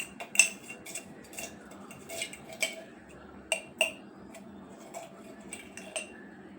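A spoon mixes a spoonful of curd in a bowl, clinking sharply against the sides in irregular taps and short scrapes, close and quiet, with pauses between strokes and no talking.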